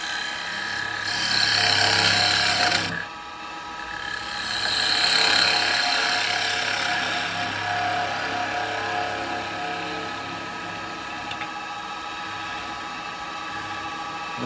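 A carbide chisel cuts a wooden bowl spinning on a lathe, giving a steady, fairly loud scraping hiss over the motor's low hum. The cut grows louder in two bursts before easing into a continuous, even shaving sound.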